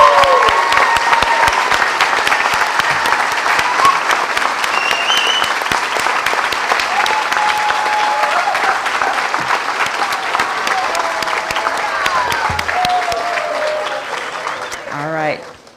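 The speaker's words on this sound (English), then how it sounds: "let's give them one final round of applause" Sustained applause from a ceremony audience honoring Cherokee Nation RTR cyclist alumni at their return event, a dense steady clapping that carries on for about fifteen seconds, with voices mixed in and a brief louder burst near the end.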